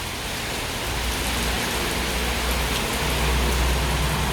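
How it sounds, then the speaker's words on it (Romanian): Heavy rain pours onto a street in the Dorobanți area of Bucharest, a dense, even hiss of falling water with a low rumble underneath, steady and unbroken, no talking. "Se vede prea frumos cum pică apa."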